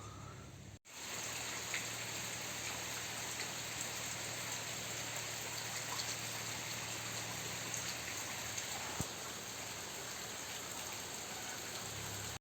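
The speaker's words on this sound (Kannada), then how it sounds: "ಮಳೆ ಜೋರಾಗಿ ಬರುತ್ತೆ ಇವಾಗ" Steady heavy rain hisses and patters continuously, an even wash of sound with no voices, moderately loud and unbroken.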